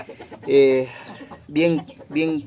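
A young rooster about six months old, a cross of Asil and American game breeds, gives three drawn-out clucking calls close by, each separated by short pauses.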